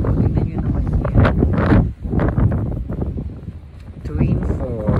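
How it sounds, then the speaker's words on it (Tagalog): Wind rushes and rumbles across the microphone in swelling gusts near Twin Falls in Challis, Idaho, with someone talking through it. "Pinapas ko ng hangin."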